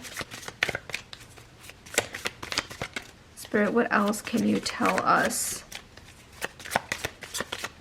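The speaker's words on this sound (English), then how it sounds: "let's continue shuffling here" Tarot cards riffled and shuffled by hand at close range in a few crisp bursts, with someone talking softly before and after and briefly over the shuffling.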